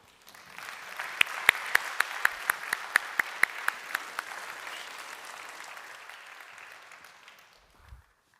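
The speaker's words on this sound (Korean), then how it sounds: "우리 나오실 때 박수로 맞이해 주시기를 바랍니다." A church congregation at an Easter Sunday service applauds to welcome someone forward. The clapping swells quickly and holds steady, then fades out, with a few sharper claps standing out near the start.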